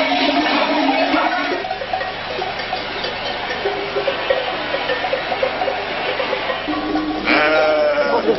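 A flock of sheep on transhumance toward alpine pastures fills the air with a dense, continuous chorus of bleats near and far, one loud call standing out near the end.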